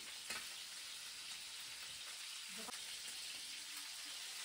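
Rabbit legs fry in a pan for a mustard rabbit dish, giving a steady, fairly quiet sizzle with a couple of faint knocks as the pieces are handled, and no voices.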